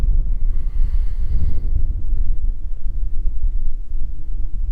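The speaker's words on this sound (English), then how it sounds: "It's very windy up here," Strong wind buffets the microphone at a windy hilltop lookout over Tembe Elephant Park toward Mozambique, a steady loud low rumble throughout with no voices.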